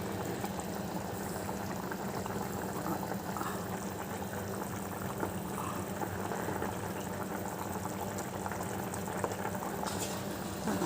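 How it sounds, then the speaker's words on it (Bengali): Potatoes boil in a covered pot on the stove, a steady, dense bubbling that runs unbroken and close throughout, with no voices over it. "আলুটা সেদ্ধ হয়ে গেছে।"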